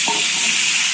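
Pumpkin pieces hit hot oil already seasoned with cumin seeds and dried red chilli, giving a loud, close, steady sizzle with no talking.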